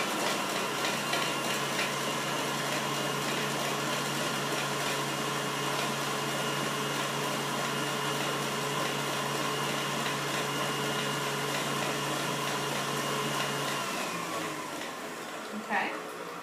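Electric mixer beating shortening for homemade icing at high speed, a loud steady motor whine with a constant hum that winds down near the end, a voice briefly heard under it.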